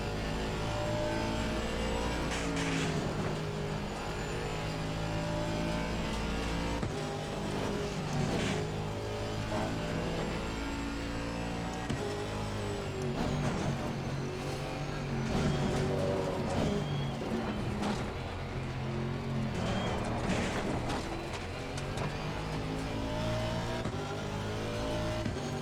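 Race cars, including a McLaren and a Ferrari, roar continuously in a sim-racing stream, engines revving up and down with gear changes, loud and dense for the whole stretch.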